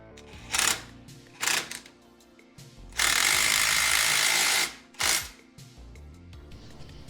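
A ratchet wrench torques down a suspension bushing nut on an 80 Series Land Cruiser fitted with an Old Man Emu 2-inch lift, with short clicking bursts, one long continuous ratcheting run, then another brief burst, close and loud.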